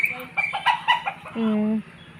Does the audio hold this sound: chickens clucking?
yes